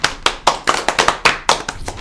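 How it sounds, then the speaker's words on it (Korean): A handful of people in a studio clap in a loose, uneven rhythm of about ten distinct sharp claps, close and fairly loud, with no talking over them. "저 박수 한번"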